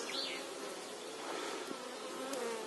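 Honeybees buzz steadily at a beehive entrance in spring, a close, continuous drone with a few passing higher whines from individual bees.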